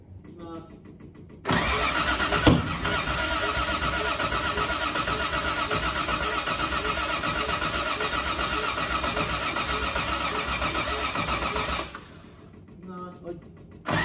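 A Toyota Crown with engine trouble cranks and fires up, then runs at a loud, steady, rough idle for about ten seconds before shutting off, heard up close with people talking around it.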